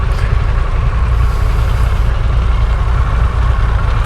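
A Harley-Davidson Pan America CVO motorcycle rumbles steadily while riding, its engine and exhaust giving a loud, continuous low drone close by with no talk.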